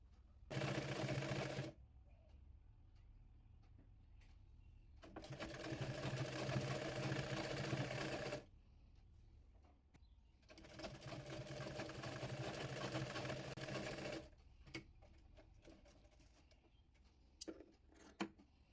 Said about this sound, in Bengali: এরপর ডিজাইনটি বডি পার্টের উপরে রেখে সেলাই করে নেব।